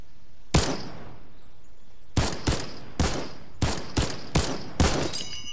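Gunfire in Fortnite during a match: an initial single shot, then a quick run of about five sharp, loud reports spaced roughly half a second to a second apart, close by with no talk.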